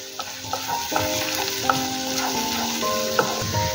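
Ingredients for aloo katli fry and get stirred in a pan, a soft continuous sizzle with faint stirring ticks under a background melody of sustained musical tones.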